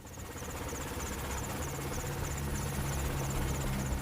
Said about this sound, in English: The Indian Army has received its final 3 Apache attack helicopters